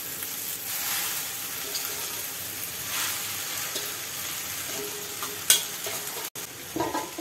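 Saag bhaji with onion, garlic and green chili is stirred in a pan, giving a steady sizzle of frying with scraping and stirring noises near the end.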